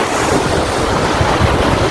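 Waves wash in at a seaside beach, a dense continuous roar of surf mixed with wind buffeting the microphone, loud and close throughout.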